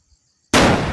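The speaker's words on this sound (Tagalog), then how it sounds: "Paputok muna kami, no? Ng 2 beses po." A single firecracker goes off outdoors in the mountains: one sudden loud, close bang after near silence, its broad crackling burst trailing off over half a second.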